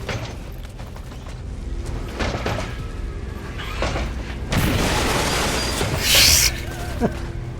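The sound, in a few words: grenade explosion in XCOM 2 video game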